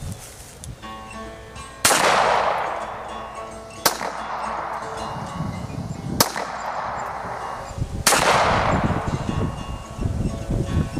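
Four loud, sharp pistol shots at an outdoor 25-yard range, fired from a 9mm 1911 and spaced about two seconds apart, each cracking sharply and trailing off into a long echo.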